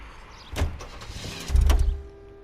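A Packard in the L.A. Noire video game, with car door and mechanical thumps, a low rumbling burst as the vehicle starts to move, and a faint steady hum, close and with no talking.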